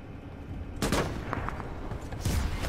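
Automated turrets fire in the sci-fi shooter Starship Troopers Extermination, giving off bursts of sharp broadband shots. There are two main loud volleys, one early and one late, with quicker pops between them over a steady background rumble.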